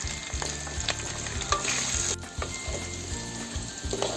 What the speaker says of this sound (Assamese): এয়া মই এনেকৈ আলুখিনি এনেকুৱা কালাৰ কৰি মই ভাজি ল'লোঁ